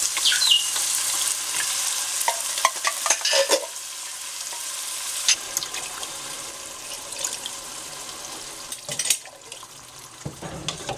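Tomatoes stirred into a pan of frying marinara sauce: loud close sizzling with wet scraping stir strokes, easing to a softer bubbling hiss with occasional clanks.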